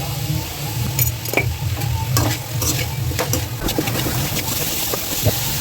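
Mutton curry is stirred and turned in a hot pan, with close, loud sizzling frying and repeated scraping and clattering of the spoon against metal, alone without speech.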